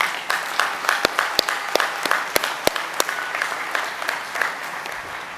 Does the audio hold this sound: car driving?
no